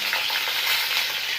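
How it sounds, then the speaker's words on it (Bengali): Potatoes fry in hot oil that was earlier used for fried onions, giving a loud, dense, continuous sizzle close up, with no voices. "আমি আলুগুলো ভেজে নিচ্ছি"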